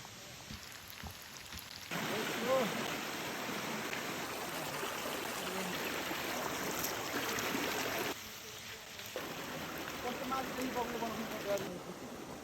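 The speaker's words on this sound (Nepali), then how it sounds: "this is Koleshwar waterfall" Steady rushing water from Kuleshwor waterfall in a dense forest at Lalitpur roars as a broad, continuous wash, with a brief drop in intensity partway through before the full flow returns.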